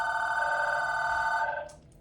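A phone rings with a steady electronic tone, loud and close, sounding continuously before cutting off near the end and fading into quiet.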